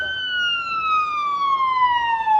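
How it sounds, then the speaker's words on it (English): An ambulance siren wails on the streets of Los Angeles' Skid Row, a loud, steady tone slowly falling in pitch as the vehicle passes close by, over low traffic rumble. "we've heard a bunch of ambulances so far"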